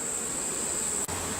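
Honeybees hum inside an indoor observation beehive, a faint, steady buzzing drone with a thin high whine running through it and no voices.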